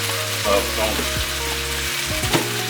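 Ribeye steaks sizzle steadily in a hot pan for teriyaki steak, with a dense, continuous fry and a few brief clanks or scrapes near the end; no one talks.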